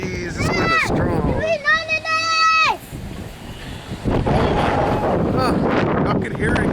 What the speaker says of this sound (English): Jeez, this wind is strong.